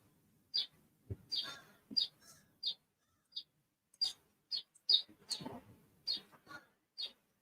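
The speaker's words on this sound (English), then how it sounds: "See, there's where those birds are chirping." Birds chirp beside a house in short, sharp, high calls spaced every second or so, fairly clear against an otherwise quiet background.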